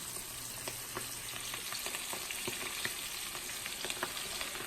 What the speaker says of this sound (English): we're going to let it fry on for 5 to 7 minutes on each side